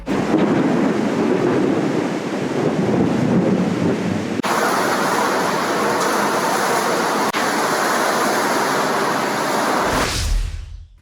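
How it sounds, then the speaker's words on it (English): Heavy thunderstorm rain pours in a dense, loud, constant roar, with deep rumbling thunder building beneath it early on before the downpour continues alone and cuts off near the end. "A decent sized storm came through later in the afternoon."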